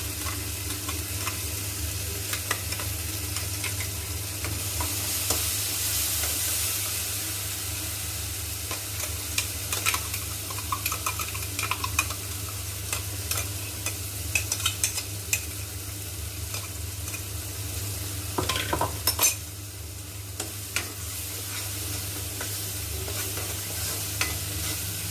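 Onion-tomato masala frying in a pan, a steady sizzle broken by repeated scraping stirs of a spoon against the pan, close and fairly loud, with no talking.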